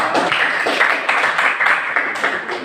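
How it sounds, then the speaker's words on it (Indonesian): A classroom of students claps together, a dense, steady patter of many hands lasting a few seconds. "Tepuk tangan untuk kita semuanya"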